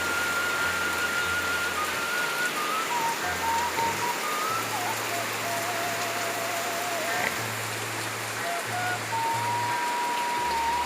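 Steady rain falling in the countryside during the rainy season, a dense even hiss with low tonal hum notes underneath throughout.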